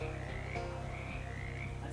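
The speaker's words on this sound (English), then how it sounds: "A frog hops up to you." Frog croaking in the Shadows Over Loathing video game, a repeated low croak pulsing steadily over continuous game music.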